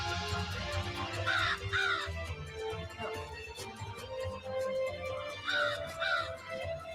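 A crow in a TV episode gives two pairs of loud, harsh caws, the first pair early and the second pair late, over a low rumbling background.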